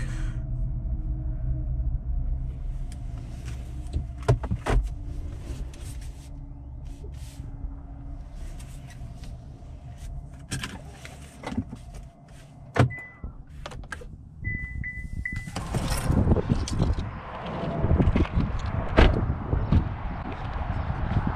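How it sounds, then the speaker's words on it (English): A 2021 Chevrolet Trailblazer AWD LT turns around and pulls over, low engine and road rumble giving way to door and handling clicks as the driver gets out, then brighter outdoor noise; no speech. "I'm gonna pull over and get out for a second."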